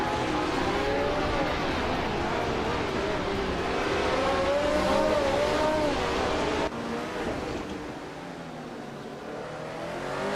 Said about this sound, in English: Hymas is driving a 1971 Surtees TS9, starting in 7th place.